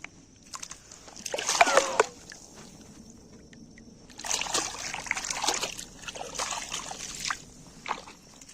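River water splashes and sloshes in two bursts as someone washes at night on a Sundarbans river during a fishing trip, with quiet trickling between the bursts.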